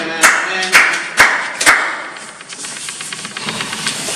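Church congregation applauding in a few sharp bursts of claps near the start, then fading into a softer, diffuse patter of clapping and crowd noise.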